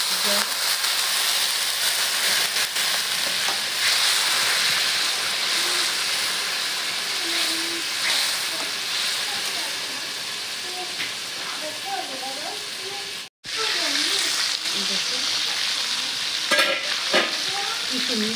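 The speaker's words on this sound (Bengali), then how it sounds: "মাছের সাথে আর মশলার সাথে ভালো করে কষাই নিচ্ছি, এখন একটু দিয়ে দিচ্ছি জল" Rohu fish pieces cook in spices in a pan, with strong, continuous sizzling and stirring close by, then a short break before water goes in and the bubbling and scraping start again.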